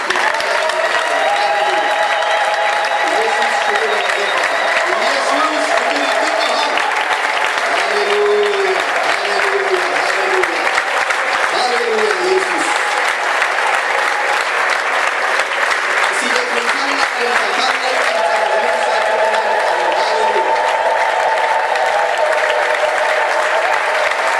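A church congregation in Addis Ababa applauds loudly and continuously, dense clapping mixed with rising ululation and crowd voices throughout.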